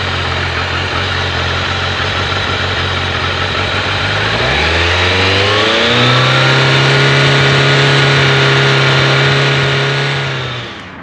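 A Kawasaki ZRX motorcycle engine idles, then revs up sharply and holds at a high, steady whine before easing back down, loud and close.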